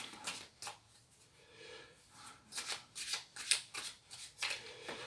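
Tarot cards shuffled by hand in a quiet room, a run of crisp riffling bursts and soft flicks in uneven rhythm, close and fairly faint, with no talk.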